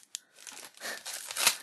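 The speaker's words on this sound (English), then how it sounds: "I'm going to try and shuffle this big wad of cards" A big stack of Pokémon trading cards is shuffled by hand, giving a short sharp snap and then a rustling, crinkling riffle of card stock, close and moderately quiet.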